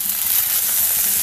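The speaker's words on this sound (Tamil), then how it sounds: "இப்போ எல்லாமே நல்லா வறுத்துக்கோங்க." Chilies, grated coconut and garlic roast in a pan for chutney, giving a steady close sizzle and crackle with a few soft stirring scrapes, and no voices.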